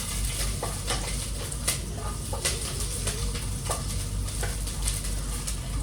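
Onion frying in a pan while being stirred, a dense steady sizzle with repeated scraping knocks of a spoon, a low rumbling hum underneath and faint bird calls in the background.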